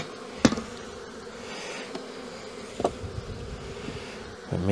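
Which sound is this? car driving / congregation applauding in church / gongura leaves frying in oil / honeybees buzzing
honeybees buzzing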